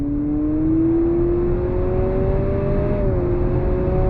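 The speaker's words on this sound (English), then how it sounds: "We're gonna go on throttle from a slow roll here." A 2023 Honda CR-V Sport Touring hybrid SUV accelerating from a slow roll, a steady rising engine drone heard from inside the cabin with a brief drop like a simulated gear shift, over constant road rumble.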